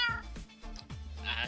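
A cat meows in Minecraft, giving several short, close meows in a row, each clear and fairly loud, with no other sound behind them.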